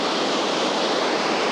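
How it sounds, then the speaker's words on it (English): A waterfall on a hiking trail in Albania roars as a steady, loud broadband rush of falling water, continuous and close, with no voices over it. "look at this stunning waterfall"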